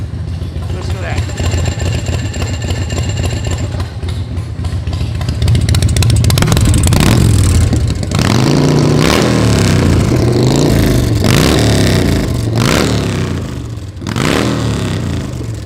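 A loud Exile custom chopper motorcycle engine idles, then revs repeatedly in rising and falling surges close by, with someone talking over the exhaust.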